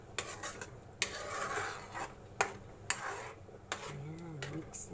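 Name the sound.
mixing spaghetti in a pan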